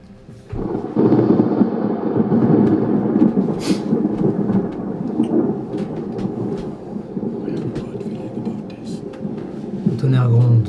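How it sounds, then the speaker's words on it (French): Thunder used as a sound effect in a French tabletop role-playing liveplay: a loud, sustained rumble rolls on for about ten seconds with crackling peaks and a final heavier swell. "Le tonnerre gronde."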